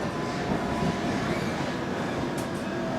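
A London Underground train running near Sloane Square station, with a continuous rolling rumble and rattle inside the carriage, steady and fairly loud.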